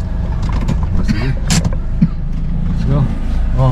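A motorized tricycle engine hums nearby on a Pangasinan village road in the Philippines, steady throughout, with people talking over it.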